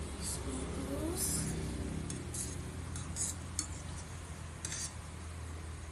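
Food is stirred and mixed in a pan while a child cooks, with faint scraping and metallic clinks of a utensil against cookware, a few sharper taps standing out over quiet background murmur.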